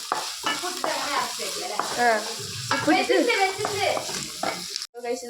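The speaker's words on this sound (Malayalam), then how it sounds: "എന്നിട്ട് കുറച്ച് ഇളക്കി കൊടുക്കുക." Chundakkai thoran sizzles in a pan while a spoon stirs and scrapes, soft frying crackle under a woman's speech, ending with a brief clatter.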